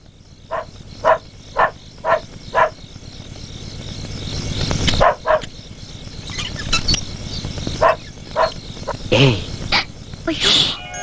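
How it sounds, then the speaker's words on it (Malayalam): A dog barks in short repeated bursts, fairly close, while people talk over a low background hum. "ആ കൈസർ എടുത്ത് കുരയ്ക്കുന്നുണ്ട്."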